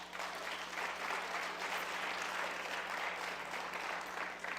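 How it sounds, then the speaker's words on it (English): Steady applause from a university audience, a continuous even wash of clapping at moderate distance lasting several seconds with no talk over it. "You can clap and applaud for that."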